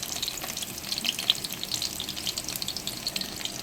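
Cumin seeds frying in hot oil with garlic and green chillies, a steady close sizzle with light crackles and pops scattered throughout, no voices.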